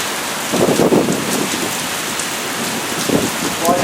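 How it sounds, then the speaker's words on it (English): Heavy rain pours steadily and loudly during an Oklahoma storm, a dense hiss of drops pounding a surface, with a few stronger bursts of spatter. "So this has been raining for an hour anyway."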